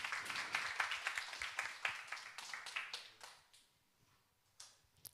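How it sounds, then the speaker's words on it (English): An audience claps for the tech team at a deep-tech accelerator event, a brisk burst of hand claps that thins out and fades to near silence, with a few stray claps near the end. "So round of applause for the tech team."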